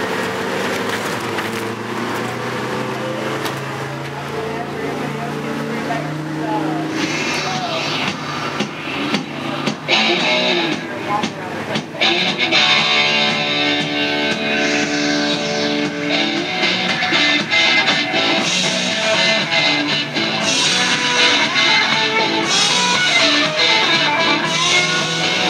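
Novice-class race cars roll off for the green flag of a Diamond Park Speedway feature, a pack of engines layering and revving together, loud and sustained with sharp bursts as they accelerate away.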